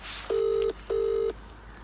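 A telephone number is dialed as two steady touch-tone beeps, each lasting under half a second with a short gap between, clear and close against a quiet background.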